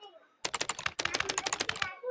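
Rapid typing of a name on a keyboard, a close, even run of crisp key clicks in two bursts with a short pause between, with light voice sounds at the start and end.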